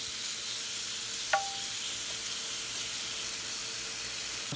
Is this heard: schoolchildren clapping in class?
no